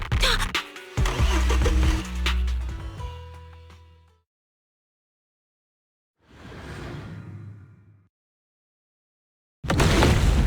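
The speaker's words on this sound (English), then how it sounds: "Piper, start the truck!" A vehicle engine cranks and turns over, then fades into silence; a second swell of engine noise rises and falls, and another loud burst follows.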